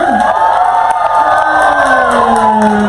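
A bar crowd at a drag show viewing party cheers and whoops loudly and continuously, with shrill voices rising and falling close by.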